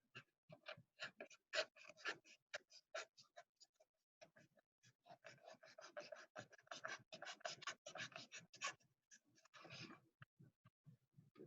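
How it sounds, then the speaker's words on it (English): A craft knife slices a chamfer off a block of foam for an industrial design model, giving a dense run of quiet scratchy cutting strokes with a brief pause partway through. "All we need is a craft knife, and we just cut that main chamfer off."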